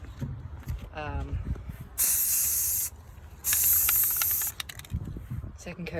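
Sealant sprayed onto a glitter epoxy tumbler in two loud bursts of aerosol hiss, each about a second long, with a quieter stretch between them and faint background noise around.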